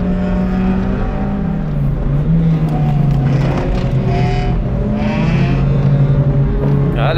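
Race cars in the Gran Turismo video game, including a BMW E36 and an Acura Integra, droning loudly with steady engine tones that rise and shift in pitch through gear changes, continuous and close.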